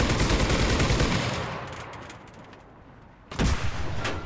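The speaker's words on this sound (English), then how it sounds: "shooting my main cannon, firing the machine gun" Tank main cannon and machine gun firing in a video game, loud rapid bursts of gunfire at the start that fade away, then a sharp heavy blast near the end followed by more firing.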